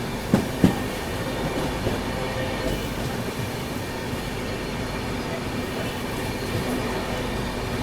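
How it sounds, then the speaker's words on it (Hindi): An Indian passenger train, the Patna–New Delhi Amrit Bharat Express, is overtaken near Kanpur, heard as steady close rumble and rail noise from a moving train with a few sharp clicks early on. "ओ, पटना नई दिल्ली अमृत भारत एक्सप्रेस।"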